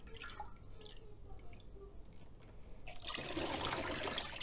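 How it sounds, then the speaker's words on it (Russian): Salt brine of water and salt poured over fish in a container, faint drips and trickles at first, then a steady rush of pouring liquid for the last seconds. "И заливаем этим рассолом."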